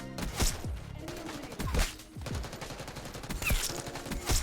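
Rapid automatic bursts from a Jackal PDW submachine gun in Black Ops 6, several close, punchy volleys with crashing impacts and brief gaps between them over constant game noise.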